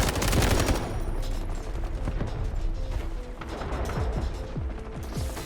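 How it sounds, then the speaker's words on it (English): Dense automatic gunfire from a machine gun in the shooter game Delta Force, loud and continuous with layered bursts and mechanical clatter, other weapon noise mixed in throughout. "Oh, he's got a machine gun."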